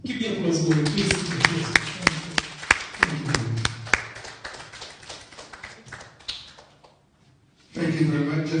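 Guests at a police credit union scholarship award clap in a loose, fairly regular run of distinct claps, with people talking before and after.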